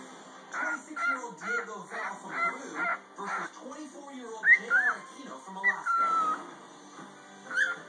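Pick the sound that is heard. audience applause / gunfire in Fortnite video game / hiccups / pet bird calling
pet bird calling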